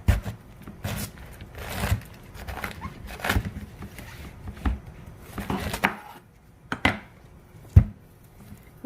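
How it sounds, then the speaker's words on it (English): A knife chops cabbage on a cutting board in a home kitchen, a run of uneven cuts and knocks with short pauses, close and fairly quiet, with two or three sharper thuds near the end. "then we're going to go cut up some cabbage"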